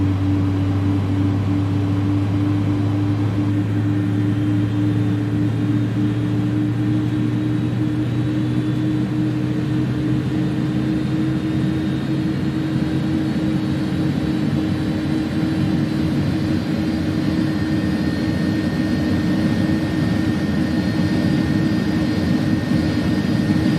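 The simulated jet engine of an Airbus A300F freighter in the X-Plane 11 flight simulator spools up in a loud, continuous roar, with steady droning tones that slowly climb in pitch. No talk is heard.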